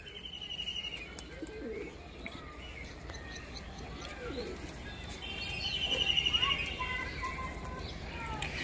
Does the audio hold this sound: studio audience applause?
no